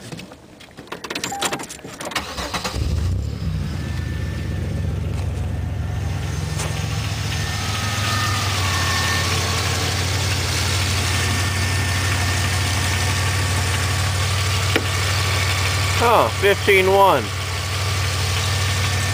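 A car engine cranks and catches, then settles into a steady, low idle that runs on, with some clicks and handling noises early and a brief spoken exclamation near the start.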